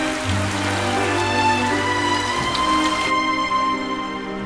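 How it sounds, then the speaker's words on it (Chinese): Steady heavy rain falls throughout, a dense continuous wash under a low sustained tone and faint background elements, with no talk. "这雨来势汹汹，看来得下一阵子了"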